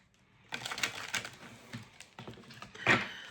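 Tarot cards being side shuffled give quick, dry papery clicks and riffles in short bursts, close and fairly soft, with a sharper flurry near the end.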